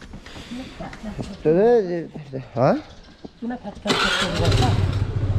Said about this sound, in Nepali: अब स्कुटीमै जानु पऱ्यो नि